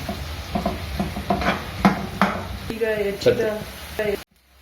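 Onion and green chili go into a pan after potato for dill upma and are stirred, with a spoon scraping and knocking against the pan in uneven strokes over a soft sizzle, then silence.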